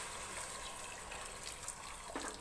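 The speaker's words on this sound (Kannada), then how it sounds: "ಸ್ವಲ್ಪ ನೀರು ಹಾಕೋತಾ ಇದ್ದೀನಿ," Steady broadband rush of water pouring into a cooking pot of sprouted horse gram, continuous and moderately close, with no speech.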